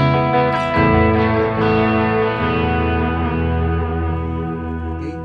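Electric guitar played through a Strymon Volante delay pedal with the reverb switched off, sustained chords ringing with dense harmonics and repeating echoes that trail away steadily, loud and close with no talking.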